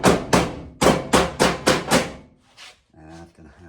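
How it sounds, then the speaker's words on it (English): Hammer striking a metal floor being prepared for gasless welding: six sharp, evenly spaced ringing blows close up, then a lighter tap and a voice speaking. "See if I can do a little tap tap."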